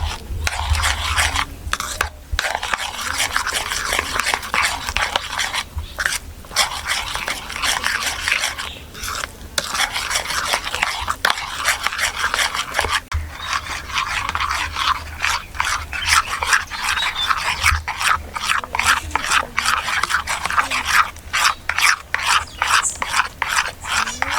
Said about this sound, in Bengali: চিনিটা সুন্দর করে গলে যাওয়া পর্যন্ত আমি এভাবে নাড়তে থাকবো